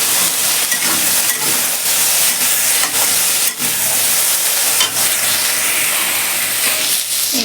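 Cabbage frying in a pan at home, a loud continuous sizzle with steam hiss and intermittent stirring scrapes, heard close and steady for several seconds with no voices.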